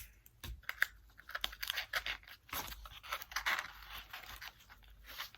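Piece of cardboard being cut down, a quiet series of close, irregular crunching and scraping snips, no talking.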